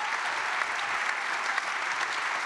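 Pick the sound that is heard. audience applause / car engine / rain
audience applause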